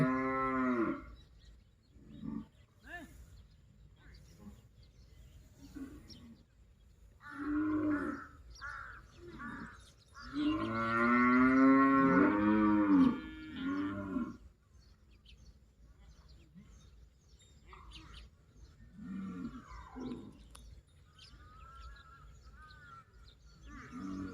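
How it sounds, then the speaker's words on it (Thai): A water buffalo on a rural Thai farm moos in long, deep, drawn-out calls, one especially loud bellow lasting several seconds, with crows cawing and a person talking in the background. "พ่อไปเรียกควายเงี้ยอยู่ข้างใน"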